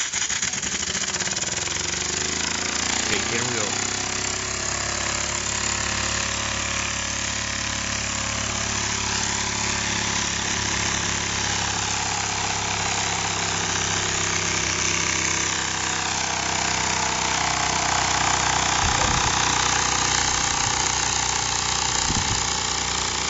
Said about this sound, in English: This engine is pretty fast,